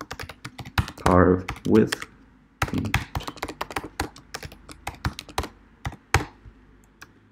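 Computer keyboard typing up close, crisp irregular key taps in bursts with a few heavier thunks, while someone speaks briefly over part of it.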